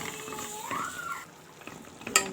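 Butter and flour being stirred in a pot for lasagna béchamel sauce, a soft scraping stir with faint sizzling, one rising squeak midway and a sharp clink near the end, close and fairly quiet.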